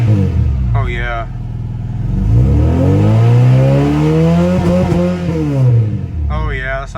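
A Honda Prelude engine revs through a full custom exhaust, a loud deep rumble climbing and falling through several throttle blips, with brief talk at the start and the end.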